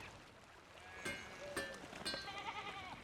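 Sheep in the medieval-village video game Pentiment give several overlapping bleats and wavering cries in a quiet rural ambience, spaced across a few seconds.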